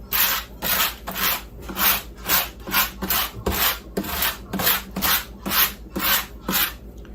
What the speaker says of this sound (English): And I use this scratching tool.